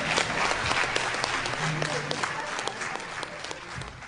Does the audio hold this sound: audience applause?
yes